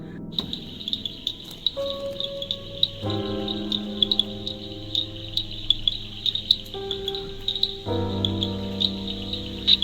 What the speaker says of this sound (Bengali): এবং ঝিঝি পোকার ডাকের মাঝে